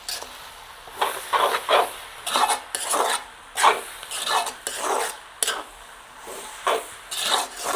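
A spoon stirs and scrapes curry leaves and spices through hot oil in a pan, giving repeated rhythmic rasping strokes over a soft sizzling hiss.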